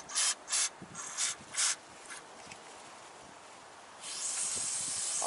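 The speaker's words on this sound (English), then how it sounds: "want to spray down the throat of the jet." Aerosol spray blasted down the throat of a carburetor jet on dual EMPI 40 HPMX carbs, heard as several short bursts of hiss followed by a longer, steady spray near the end.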